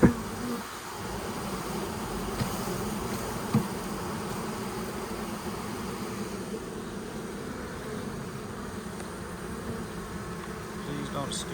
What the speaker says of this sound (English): Some really big bees,